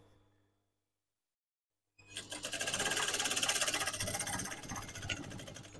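Sewing machine stitching three-inch header tape onto an unlined curtain, running steadily and close after about two seconds of near silence, its rapid needle rattle continuing to the end.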